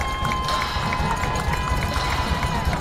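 Crowd cheering from the Prairieville Hurricanes side at a high school football game against East Ascension, a loud, continuous roar of voices filling the stands with scattered shouts rising above it.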